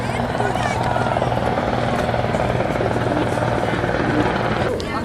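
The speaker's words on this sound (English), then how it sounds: "Here comes a helicopter." A helicopter roars steadily close overhead near the Lincoln Memorial in Washington, D.C. for several seconds, its rotor thumping loudly over wind noise, with faint voices underneath.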